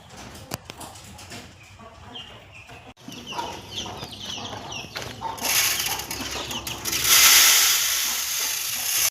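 Chickens cluck at feeding time in a farmyard, with scattered nearby clucks and calls that grow busier, then a rising hiss of water or movement toward the end.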